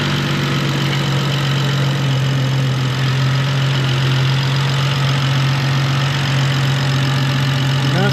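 A car engine idles steadily with a constant low hum and faint knocking texture, close and unchanging, with no voices.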